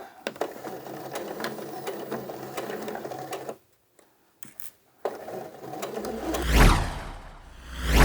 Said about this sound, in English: Now that you've stitched the side seams